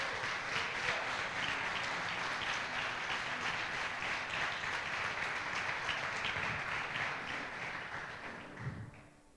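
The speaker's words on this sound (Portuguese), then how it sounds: "Gostaria que você aplaudisse mais uma vez ao nosso Senhor bem forte." A church congregation at a Sunday celebration service applauds loudly and steadily, a dense wash of many hands clapping that slowly tapers off at the end.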